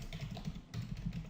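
Quick keystrokes on a computer keyboard while a Linux command is entered, a short burst of soft, close clicks that falls briefly silent and then resumes.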